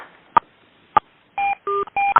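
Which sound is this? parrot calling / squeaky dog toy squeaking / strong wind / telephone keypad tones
telephone keypad tones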